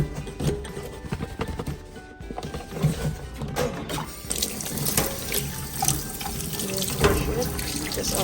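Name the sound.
water running from tap while washing container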